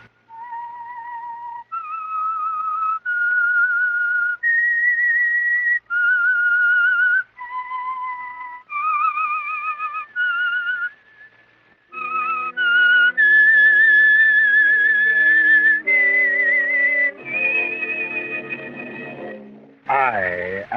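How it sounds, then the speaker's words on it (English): A lone whistler performs the eerie theme melody of the 1948 radio mystery drama The Whistler, a clear sustained tune of held notes that a full orchestra then takes up and swells beneath. "That whistle is your signal"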